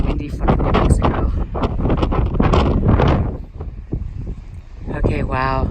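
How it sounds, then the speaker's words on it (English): Strong gusting wind in New Mexico buffets the microphone with loud, roaring rumble that swells and eases over several seconds, with a voice speaking beneath it. "Just another day in windy fucking New Mexico."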